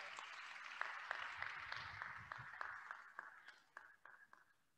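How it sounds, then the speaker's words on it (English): A small crowd at an honors convocation applauds a row of honorees, a soft, fairly distant patter of clapping that thins to a few scattered claps and fades out. "let's give this row a round of applause"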